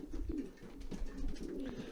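An Indigo racing pigeon with a steel grey head, crossed with red pigeons, coos softly in a low, continuous, rolling murmur, close by but faint in a quiet allotment loft.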